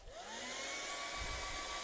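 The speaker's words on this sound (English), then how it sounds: "Now pick up your hair dryer and dry that." A hair dryer runs steadily close by, drying wet acrylic paint on a water scenery painting, with a continuous whooshing blow and a rising motor whine at startup, no talking.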